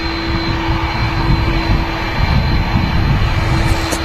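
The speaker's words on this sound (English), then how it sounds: "Hopefully it doesn't get blocked by this aircraft, this Turkish that's taxiing out, Andy." A Turkish airliner taxiing at Manchester Airport gives off a loud, steady jet engine roar and rumble with a constant whine, heard alone from a nearby vantage point.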